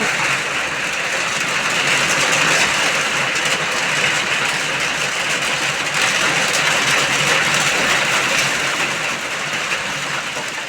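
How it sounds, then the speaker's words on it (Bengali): A heavy monsoon downpour on the day of the Rath Yatra festival makes a loud, unbroken roar of rain that stays steady throughout, with no voices. "দেখো কি জোরে বৃষ্টি এলো"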